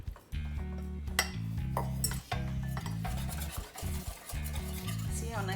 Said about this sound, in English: while you're whisking, you add your slurry to your eggs